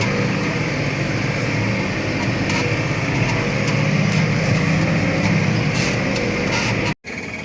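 A steady, droning tractor engine runs continuously at close range while mowing, with a constant broadband rumble, briefly cutting out near the end before resuming.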